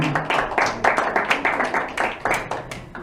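Council members and audience at a municipal council meeting in Saint-Sever clap in quick, uneven bursts, close and moderately loud, with faint voices mixed in.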